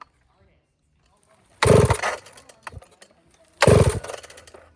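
A Husqvarna 562XP Mark II chainsaw is pulled over without choke, giving two loud, short bursts of engine sputter about two seconds apart that die out each time, separated by near silence.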